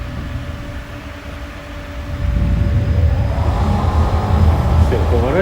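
Russian tram riding along its line, a steady low rumble and hum that grows louder partway through, with squealing wheel tones toward the end.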